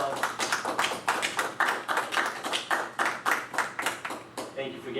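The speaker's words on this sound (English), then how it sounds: "I think we should give those employees a round of applause." A small group at a school committee meeting claps for school employees. The clapping is a sparse, rhythmic patter of individual hand claps close by, heard alone.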